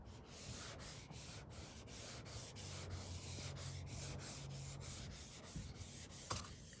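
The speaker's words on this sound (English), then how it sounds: "then I go with my long sanding block, and then I will just sand away at the door panel" A long sanding block is rubbed over primer on a car door panel in steady, rhythmic back-and-forth strokes, soft and close with no talk.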